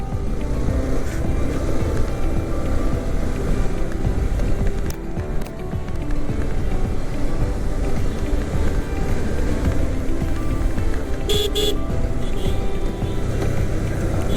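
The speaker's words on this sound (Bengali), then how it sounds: "সাবধানে বাইক চালিত হয়" A motorbike rides along a hilly road toward Bandarban, its engine drone mixed with a constant rush of wind, loud and close throughout with a couple of brief clicks.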